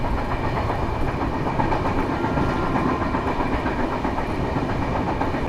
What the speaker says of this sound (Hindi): केरला संपर्क क्रांति एक्सप्रेस क्रॉस करने वाली है वशिष्ठी रिवर को